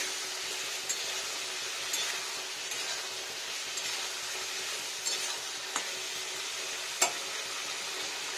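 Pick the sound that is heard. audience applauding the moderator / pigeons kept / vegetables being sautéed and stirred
vegetables being sautéed and stirred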